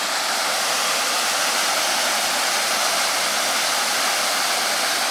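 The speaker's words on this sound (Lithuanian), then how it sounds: "Tačiau čia šalia labai srauniai bėga vanduo." Fast-flowing water rushing beside the restored Bijotai water mill: a dense, steady broadband roar, loud and constant throughout, with no voices.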